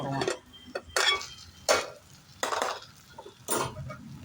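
A metal lid goes onto a cooking pot of Tamil turkey berry (sundakkai) kuzhambu simmering in oil, giving five or so close, sharp clinks and clanks spaced about a second apart.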